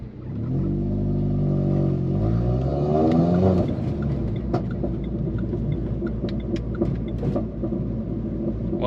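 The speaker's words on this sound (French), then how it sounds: "il se passe des choses hein, dans le pot d'échappement là" A Renault R.S Trophy engine revs up with a rising, climbing exhaust note, then settles into a rough, burbling idle punctuated by sharp pops and crackles from the exhaust, loud and close.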